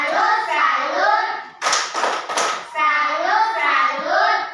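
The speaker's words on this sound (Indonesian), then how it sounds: "tepuk salut dulu untuk sila yang kelima" Children chanting a 'tepuk salut' clapping routine in a classroom, sung voices broken by a short burst of quick rhythmic hand claps in the middle before the chant resumes.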